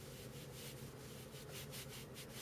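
A cloth rubs rubbing alcohol onto a PlayStation 3 CPU in quick, faint back-and-forth scrubbing strokes, soft and close, with no voices.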